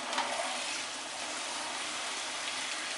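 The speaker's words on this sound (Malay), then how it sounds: "kita tambah air." Water poured into a pot of dhal with potatoes, a steady, soft gushing splash that runs without pause at a modest level.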